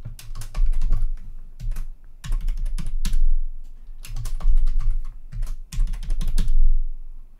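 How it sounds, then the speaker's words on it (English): Password being typed on a computer keyboard while setting up a Raspberry Pi 5, with bursts of crisp rapid key clicks separated by short pauses, close and clear. "Type your new password twice to confirm it."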